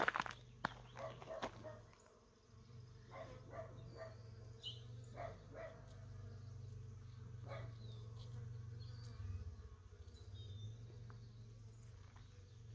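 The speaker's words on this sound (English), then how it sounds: "You can hear a lot of bees flying around." Bees buzz and drone steadily as they fly about, close and fairly quiet, with a few faint taps and rustles scattered through.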